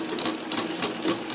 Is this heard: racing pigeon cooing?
no